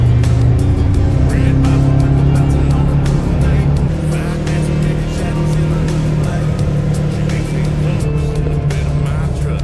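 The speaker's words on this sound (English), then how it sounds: "we got all of our gear packed up and loaded onto the side-by-sides and started the ascent up the mountain" Side-by-side utility vehicles climbing a Tennessee mountain during a search and rescue, a steady loud engine drone running continuously throughout with no pauses.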